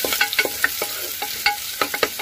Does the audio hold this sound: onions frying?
yes